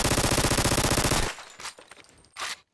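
A TMP submachine gun fires in a video game, a loud rapid burst of about a second followed by a few scattered shots and clatter, then a short final noise.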